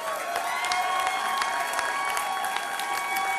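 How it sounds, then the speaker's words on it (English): A crowd applauds and cheers on election night for a New York governor's speech, a dense, steady roar of clapping mixed with whoops that holds evenly throughout. "Give them a round of applause."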